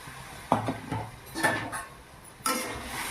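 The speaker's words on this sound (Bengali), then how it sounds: "একটু নেড়ে চেড়ে নিলাম।" A spoon knocking and scraping in a cooking pot while beans, potatoes and eggplant are stirred, giving three distinct clattering bursts a second apart, close and moderately loud.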